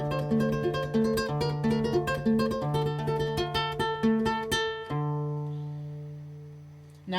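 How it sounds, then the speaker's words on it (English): Ukulele played with a two-finger tremolo, fast even repeated plucks moving through a few notes before a final chord rings out and fades, close and alone. "so you have the two finger tremolo"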